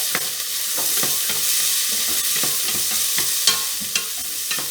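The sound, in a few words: onions frying in oil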